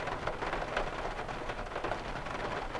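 Rain falling steadily outdoors during a turkey hunt, a dense even patter and hiss throughout, close and continuous, with no voices.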